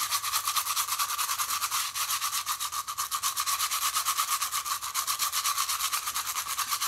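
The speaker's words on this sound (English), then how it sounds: "we gave it a nice scrub right here" A brush scrubs a sneaker in steady, rapid back-and-forth strokes, close and continuous, with no voices over it.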